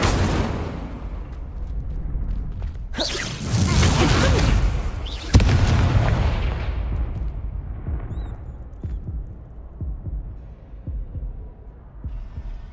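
The Incendio fire spell is cast in the video game Hogwarts Legacy: a sudden roaring whoosh of flame with a sharp burst, then a rumbling burn that fades into a low hum.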